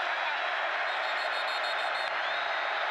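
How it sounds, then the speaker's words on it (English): Dense, steady roar of a large stadium crowd at the Apple Cup college football game between Washington and Washington State, a constant wash of noise through the whole stretch with no clear voices on top. "Crowd is loud."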